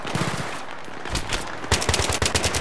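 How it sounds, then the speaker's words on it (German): Automatic gunfire in the video game Battlefield 3 during a campaign mission: loud, rapid machine-gun bursts with regular repeated shots, continuous through the clip and louder toward the end, with no talking. "Ich schieße jetzt."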